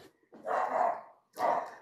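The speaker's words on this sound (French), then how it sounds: "c'est le chien de la voisine que vous entendez peut-être aboyer" A neighbour's dog barks twice, two fairly close, loud woofs separated by a short pause, with no talk over them.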